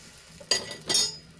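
An aloo paratha is flipped on a hot griddle: two short scraping, clinking bursts half a second apart, with a faint sizzle underneath and no voices.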